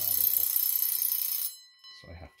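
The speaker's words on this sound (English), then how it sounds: "So the alarm works." A repaired mechanical alarm clock rings with a loud, steady metallic bell clatter for about a second and a half, then stops abruptly and is followed by a few soft clicks from handling.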